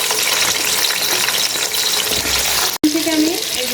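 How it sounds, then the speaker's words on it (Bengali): Cut potato pieces fry in a pan with a loud, dense hiss that runs throughout, broken once by a brief clatter near the end. "এখানে আমি 3টা আলু এই যেরকম সাইজ করে কেটে নিচ্ছি, একটু এটাকে ভেজে নিব"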